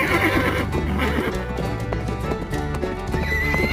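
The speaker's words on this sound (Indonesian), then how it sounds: "Ini kuda." A blue toy horse plays a recorded clip-clop of hooves with neighing over it, a steady loud mechanical loop with no gaps.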